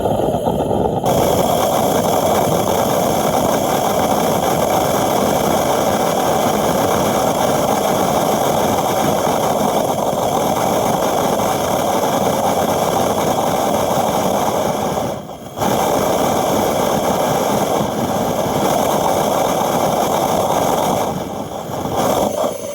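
A homemade rocket engine built from a water bottle runs with a steady, loud, broadband roar for over twenty seconds. The roar is close and unbroken apart from a couple of brief dips near the end.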